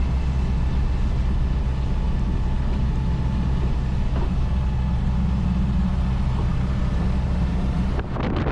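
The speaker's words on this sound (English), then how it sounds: "Incredible, the noise off these things, it's like an old truck." A restored 1970 Land Rover engine drones loudly while driving, a steady rough low rumble with road and cabin noise heard from inside, cutting off briefly near the end.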